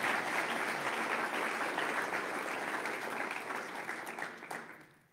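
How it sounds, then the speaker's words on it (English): A crowd at a city's State of the City address applauds steadily, a dense patter of many hands clapping that holds for several seconds and then tapers off near the end. "Now you can applaud."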